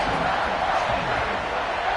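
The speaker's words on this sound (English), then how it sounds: "this crowd is buzzing after that last" Football stadium crowd buzzing after a score, a dense, steady roar of many voices from a distance, no single voice standing out.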